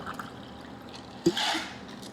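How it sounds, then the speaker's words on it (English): Sprite poured from a cocktail shaker through a strainer into a cup, a short liquid splash and steady trickle lasting under a second, close and fairly quiet. "And with the strainer, it helps just pour right in."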